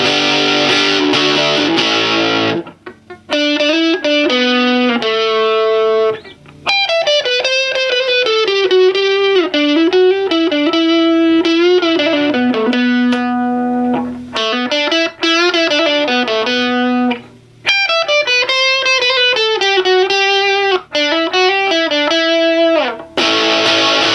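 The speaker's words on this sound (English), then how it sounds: "let's listen to that Bandit distortion again" Electric guitar played through a Bandit amp's distortion channel, loud and saturated, with sustained distorted chords and melodic phrases separated by brief pauses, heard alone without talk.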